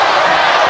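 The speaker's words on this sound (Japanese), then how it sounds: "さあ館内も歓声も2つに割れたようです。" Dense crowd roar fills a packed arena in Osaka during a professional wrestling match, a loud, sustained wash of cheering voices with no gaps over a brief moment.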